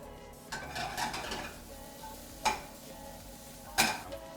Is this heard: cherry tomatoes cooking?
yes